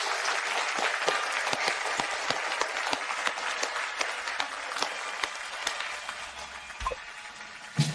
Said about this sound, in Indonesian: Marilah beri tepuk tangan untuk Fajar